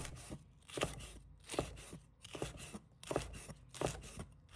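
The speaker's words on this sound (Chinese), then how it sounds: "再准备适量的红辣椒，把它切成小条" A kitchen knife slices red chili into thin strips on a cutting board, making soft, evenly spaced taps about twice a second, quiet and close, with no one talking.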